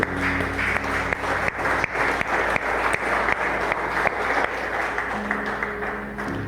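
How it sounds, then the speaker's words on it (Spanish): A church congregation applauds during a sermon, loud, fast clapping from a crowded room that keeps a fairly even pace, with a low sustained organ or keyboard tone running underneath. "Aplausos."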